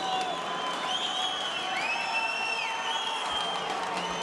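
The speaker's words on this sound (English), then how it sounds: "The crowd are screaming." Boxing crowd at a men's welterweight quarter-final bout screaming, whistling and cheering in a dense, continuous roar of a large arena, steady throughout without any clear break.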